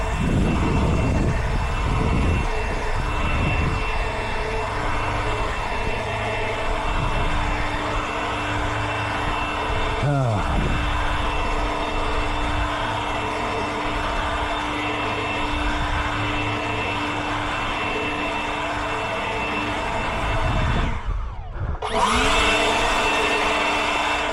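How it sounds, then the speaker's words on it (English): Leaf blower clearing organic fertilizer granules off paved common areas and sidewalks by a lawn, a loud, steady engine whine that holds nearly unchanged, then drops away and restarts near the end. "Want to blow off all the common areas that you may have hit with fertilizer."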